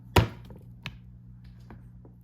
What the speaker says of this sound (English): Now that our leeks are all washed, we're going to cut them in half.